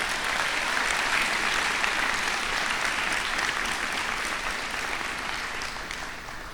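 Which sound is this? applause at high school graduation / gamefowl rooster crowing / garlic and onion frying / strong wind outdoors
applause at high school graduation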